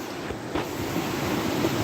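The Ganaraska River rushing through the remains of a busted-down mill dam, a steady close roar of flowing water with wind noise, no voices.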